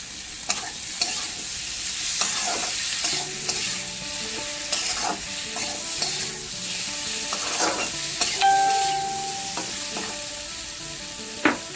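Spices sizzle steadily in hot oil in a pan for a rohu fish curry with potato, papaya and green banana, while a spatula scrapes and stirs in irregular strokes throughout.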